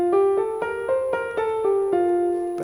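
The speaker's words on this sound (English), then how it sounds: "a major scale sounds like this" Major scale played note by note on a pitched instrument, about eight clear tones stepping upward in an even, steady rhythm, close and clean with no talking.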